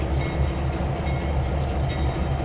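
A train rolls along the track in the Trainz 2022 rail simulator, a steady low rumble and wheel noise that holds evenly throughout with no horn or voices.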